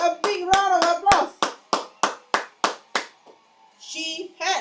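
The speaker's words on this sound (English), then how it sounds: "Give those who got correct a big round of applause." About ten sharp, evenly spaced claps ring out in a steady rhythm during a live PSLE exam-prep lesson, fading into a pause before a brief voice and more clapping close the clip.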